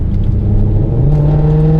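A car engine revs during a stress test drive, a loud, smooth rising hum that climbs steadily in pitch from inside the cabin, with a constant low rumble beneath.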